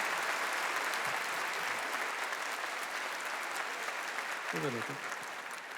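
Steady applause from an audience at the Zlatna Bubamara event fills the room, sustained and fairly close, with a brief spoken word breaking in near the end.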